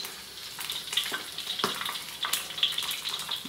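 Sliced hotdogs fry in hot oil in a pan, a busy crackling sizzle with sharp pops and spatters, close up and steady.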